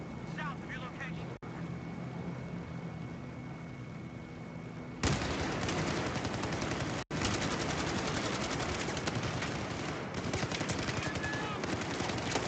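Enemy machine gun fire rattles in a shooter game demo shown at E3 2013. A quieter stretch gives way to dense, loud sustained bursts of automatic fire, broken by a couple of brief cutoffs, with voices speaking over it.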